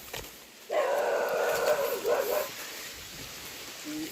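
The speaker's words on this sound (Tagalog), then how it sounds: "Lalaki ng aso bro." A large dog gives a loud, drawn-out bark or howl close by, followed by a short second bark and a faint yip near the end, with quiet outdoor background.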